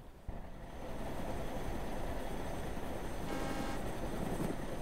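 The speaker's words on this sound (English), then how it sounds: "Start the engine." A bus engine starts in the video game DayZ, with a brief thump and then a steady, dense, loud rumble that holds evenly without any voices.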